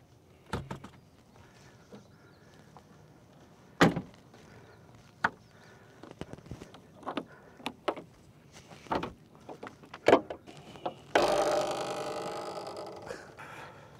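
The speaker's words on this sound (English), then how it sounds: "Let's go ahead and pop the hood" Hood latch and panel clunks on a 2023 Jeep Wrangler 4xe Rubicon with a 2-liter turbocharged engine, several sharp separate clicks and thumps spread across the stretch, then a steady broadband whoosh near the end.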